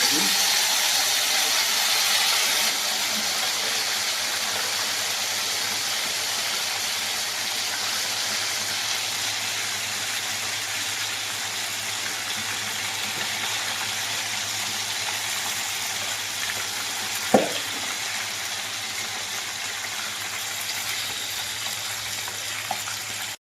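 Chicken joints frying in hot oil, a steady broad sizzling hiss that holds at an even level throughout, with a brief clack partway through.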